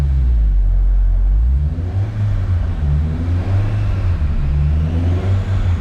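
A Honda K24 engine pulls on a dyno held at 3000 RPM in fourth gear, a loud, steady deep drone with a wavering low hum and no speech.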